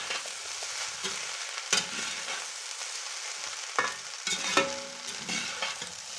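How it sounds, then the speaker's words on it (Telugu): Chicken fried rice sizzles steadily in a pan over high flame as soy sauce goes in, with scraping stirs and clinks of a spatula breaking through the constant frying hiss, close by and with no talking. "కొంచెం సోయా సాస్ వేసుకోండి హైలోనే బాగా మిక్స్ చేసేసుకొని"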